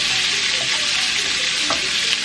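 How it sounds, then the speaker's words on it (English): Chicken sautés with brown sugar and oil in a pan, giving a loud, dense, continuous sizzle and the scrape of a utensil across the pan bottom. "We're going to saute this and make sure you scrape off the bottom"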